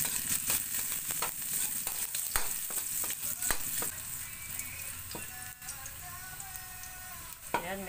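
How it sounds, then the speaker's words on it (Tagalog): Seven cloves of garlic frying in hot cooking oil, a steady close sizzle with crackles and occasional stirring clicks, alone without talk. "Pag mainit na, ilagay na natin ang ating bawang."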